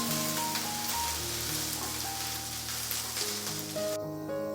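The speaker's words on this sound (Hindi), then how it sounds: "उसी पैन में प्याज को अच्छे तरीके से भून लीजिए।" Onions sautéing in a pan for a red lentil curry make a continuous soft, rain-like hiss beneath steady background music, with no voices.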